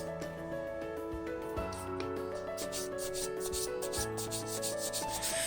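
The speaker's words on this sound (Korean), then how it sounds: "아까 사용했던 1000방짜리 종이사포고요" Steady soft rubbing of 1000-grit sandpaper on the toe of a Valentino sneaker, strokes repeating back and forth close up, with a faint background hum.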